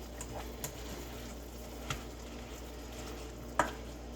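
Apples frying in a pan on a stovetop, a low steady sizzle with a few sharp utensil taps and stirring clicks, close and quiet without speech.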